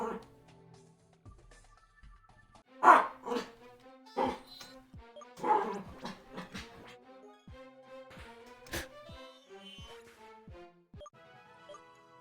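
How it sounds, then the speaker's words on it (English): A pet dog yips and whimpers indoors while playing with a blanket on the floor, giving a series of irregular short barks and whines, some louder and closer, others faint, spread across the stretch. "I don't know what my dog's doing, but you can probably hear that."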